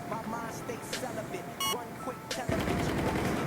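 In Battlefield 4, an AUG-A3 assault rifle fires a quick automatic burst. Denser game gunfire and noise follow, with a player's voice talking over the action.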